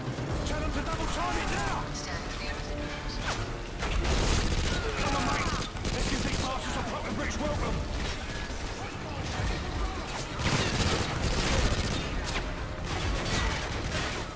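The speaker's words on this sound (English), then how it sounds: "Y'all idiots still trying to shoot at us?" Rapid bursts of automatic gunfire rattle through a Call of Duty MW3 firefight, dense and continuous with brief lulls, while a player talks over the action.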